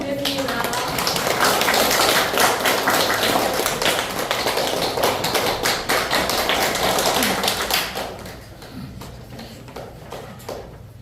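Hearty applause from a seminar audience welcoming a reader at Pukyong National University, loud and steady for about eight seconds before thinning out into scattered claps.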